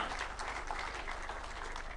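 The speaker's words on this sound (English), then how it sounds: "A round of applause for" An audience at a constitution anniversary event at KICC in Nairobi applauds Dr. Willie Mutunga, a steady wash of clapping over a low hum from the hall's sound system.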